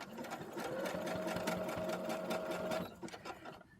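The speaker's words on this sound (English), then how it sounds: "this machine won't sew if it's not lowered" A sewing machine stitching with its presser foot lowered runs in a steady, close mechanical whir for a few seconds, then stops.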